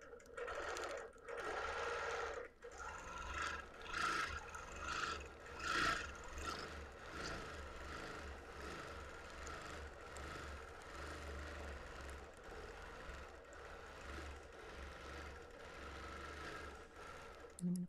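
Domestic sewing machine stitching free-motion quilting on a sampler quilt, a steady fast mechanical whir that runs throughout, with someone speaking over it.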